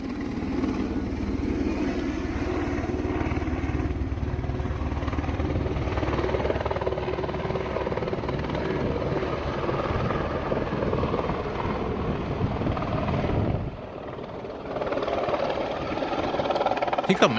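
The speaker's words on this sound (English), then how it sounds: "every day that you see a med evac helicopter spinning out of control." A medevac helicopter spinning out of control gives a steady, loud rotor drone with a brief dip in volume before the roar resumes; faint voices may be present.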